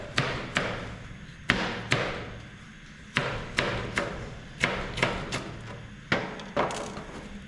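A knife chops vegetables such as bajji chilli, cucumber and beetroot on a cutting board, giving a series of sharp wooden thuds in an irregular rhythm, close and moderately loud.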